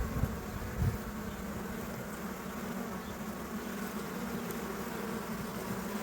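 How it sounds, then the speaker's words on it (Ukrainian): A dense, steady buzz of many honey bees swarming close around a queen cage, continuous throughout with no voices. "бджоли вже коробочку як обнюхують, полізли, полізли на коробочку, матку почули йдуть до коробочки"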